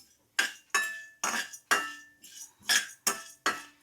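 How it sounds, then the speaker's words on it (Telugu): A spatula clatters against a dented kadai while frying, making about seven sharp, ringing metallic scrapes in an uneven rhythm, each one fading quickly, close and clear. "ఈ బాండి ఇలా నొక్కులుగా ఉంటుంది కదా, చప్పుడు అయితే ఎక్కువ వస్తూ ఉంటుంది"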